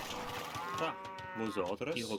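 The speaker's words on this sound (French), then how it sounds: "Allez, on va récupérer nos vaches." Cattle mooing in Age of Empires II, several drawn-out harmonic moos following one another, loud and close over a faint game background.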